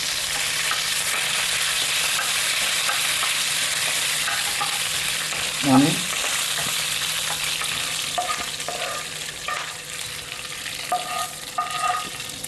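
Curry leaves drop into hot tempering oil with the gas switched off, making a continuous loud sizzle with a brief crackling burst and a few faint utensil clicks, no voices.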